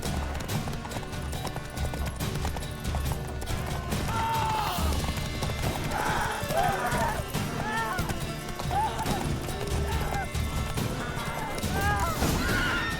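Rhythmic clip-clop of horse hooves at a gallop in a Witcher video game, steady and close, with a horse whinnying at moments and a voice talking over it.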